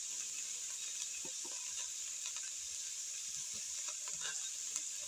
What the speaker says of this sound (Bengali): ভালো করে নেড়ে চেড়ে নিই